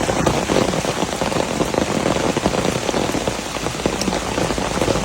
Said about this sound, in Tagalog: Ah, lakas na ulan.